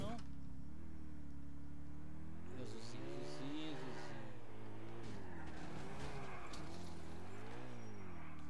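A car in the video game GTA 4 drives with a steady, loud engine drone. The revs rise and fall, with bursts of tire skidding throughout.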